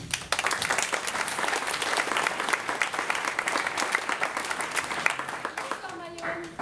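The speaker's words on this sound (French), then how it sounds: "un tonnerre d'applaudissements pour notre jury" A theatre audience at a school club's end-of-year show bursts into dense, sustained applause that stays loud and steady for several seconds before tapering off at the end, with some talk mixed into the crowd.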